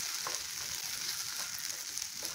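Okra and peanuts frying in a pan, a steady close hiss of sizzling oil with faint crackles throughout and no voices.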